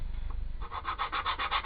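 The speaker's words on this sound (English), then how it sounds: "a little bit of hand sanding, not too much." Short back-and-forth strokes of hand sanding on wood veneer for a desk pot, a quiet low rumble first, then a rapid regular rasping rhythm close by.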